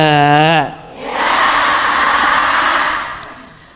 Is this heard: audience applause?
yes